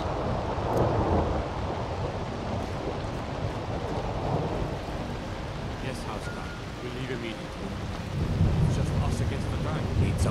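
Steady rain pours in the Skyrim video game, with low rolling thunder rumbling through a dense, continuous wash of noise, while a voice talks over it.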